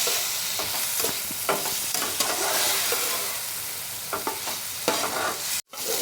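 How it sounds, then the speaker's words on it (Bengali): Spices and ginger-garlic paste are stirred in a pan for chicken chops, giving a steady sizzle broken by repeated scraping strokes of a spoon against the pan. A brief gap near the end interrupts the frying, and no one speaks. "এখন আমি এগুলোকে ভালো করে আদাটা মিশিয়ে"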